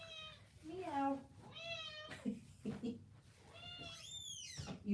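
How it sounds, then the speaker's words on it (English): A pet cat meows repeatedly up close, several drawn-out rising and falling cries, while a person talks to it in between. "You already ate. Why are you meowing at me?"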